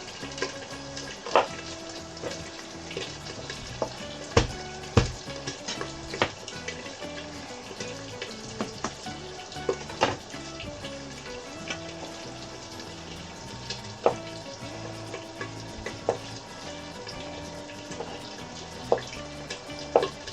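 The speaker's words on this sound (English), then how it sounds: "Now we put our onions. Let the onions soften." Onions fry in a hot pan with a steady, close crackling sizzle and scattered sharp pops throughout, uninterrupted by speech.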